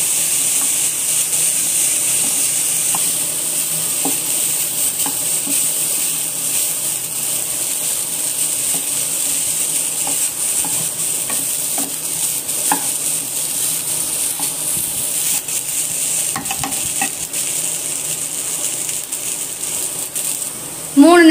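Carrot rice being stirred and tossed in a hot pan produces a long, even sizzle, dotted with soft clicks and scrapes from the spoon that keep an unhurried pace throughout.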